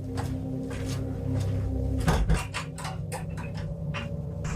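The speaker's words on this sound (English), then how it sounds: "you heard me put the latch on the door there" A door latch being set, a sharp metallic clack mid-way followed by a few lighter ticks and clicks, fairly close and alone over a low background hum.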